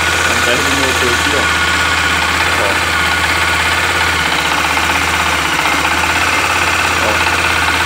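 Close to the engine of a 2018 Honda XRE 300 motorcycle, the idle runs loud and constant, with a persistent knocking rattle riding over the low mechanical drone throughout.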